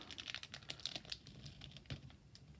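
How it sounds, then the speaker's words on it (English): Scissors snip and rustle through tape on a plastic Model Magic clay bag, giving a steady run of small crinkling crunches and clicks, close and quiet. "cut the tape. Try not to cut the bag. Cut the tape and open it up."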